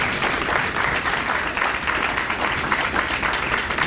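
A crowd at a mayoral candidates' forum claps steadily, a full, close burst of applause that stays consistent for a few seconds with no voices on top.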